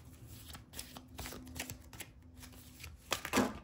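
Tarot cards drawn from a deck and handled during a reading, with soft papery shuffles and slides, several quick flicks, and a louder riffle near the end, close and quiet, without speech.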